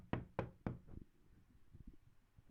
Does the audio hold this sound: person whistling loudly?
no